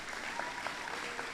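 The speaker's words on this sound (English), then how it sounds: "rousing applause." Parents give rousing applause at a boys' school Upper Sixth Form leaving ceremony, a dense, steady clapping from a large crowd heard at a distance throughout the brief moment.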